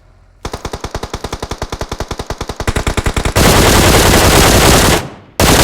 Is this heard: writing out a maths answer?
no